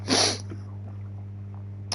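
One loud sneeze bursts out at the start, followed by a steady low hum with faint background noise.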